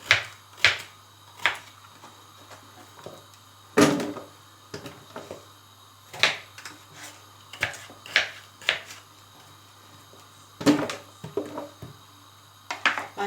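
A knife chops potatoes repeatedly onto a cutting board, a series of sharp, irregular knocks with quiet gaps between them, close up.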